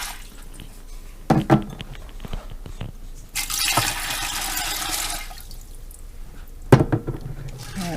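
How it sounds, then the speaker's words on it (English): Water poured from a tap or container into a pressure cooker over washed, rinsed beans, a steady splashing fill that swells in the middle, with a few sharp clinks and knocks at the start and near the end. "I'm going to add enough water to cover the beans."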